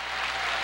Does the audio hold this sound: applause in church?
yes